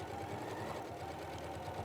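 A domestic sewing machine stitches fabric along a bag's stitching line, giving a steady, fast, quiet mechanical whirr with rhythmic needle ticks throughout, close by and alone.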